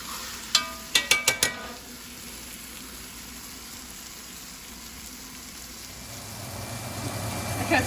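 Pot roast searing in a hot pan, a few sharp metallic clinks of a utensil at the start, then a steady low sizzle that runs on alone and swells slightly toward the end.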